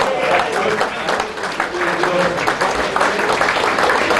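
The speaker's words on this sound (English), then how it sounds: "Big round of applause, please." An audience at an evening event applauds loudly as guests are introduced, the clapping dense and continuous with crowd voices and cheers mixed through it.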